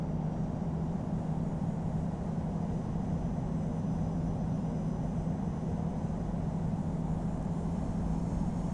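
Steady low engine rumble and broadband roar of an airliner taxiing to runway 9 left at Atlanta Hartsfield in the Infinite Flight simulator, a constant hum throughout with no talk.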